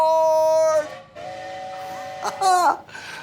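Cartoonish train sound effect with a tonal, harmonic steam whistle that sounds in several bursts, the last one bending in pitch, for a children's Christmas program.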